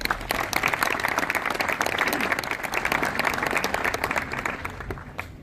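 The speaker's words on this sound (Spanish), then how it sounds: "Le brindamos un fuerte aplauso." An audience at a constitutional law book presentation in Peru applauds with dense, sustained clapping from many hands, steady throughout and easing slightly at the end.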